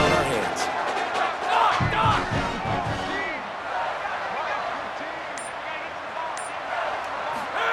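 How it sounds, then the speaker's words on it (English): A stadium crowd in the College Football 27 video game roars and cheers loudly through a fourth-quarter play, the noise swelling early and then holding as a steady wash of crowd sound, with a commentator's voice over it. "This whole crowd is going nuts."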